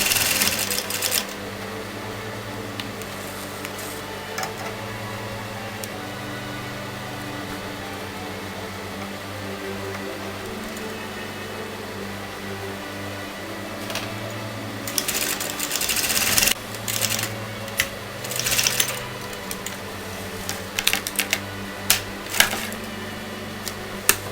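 A sewing machine stitches fabric for a raglan-sleeve garment, a steady close mechanical hum and whir that runs on, then breaks into clattery, louder bursts of stitching near the end.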